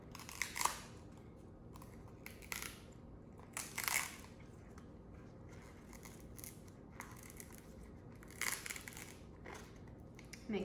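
Faint crinkling and rustling as the paper backing is peeled off an IV dressing, with a few brief crisp crackles over quiet room background and no talking.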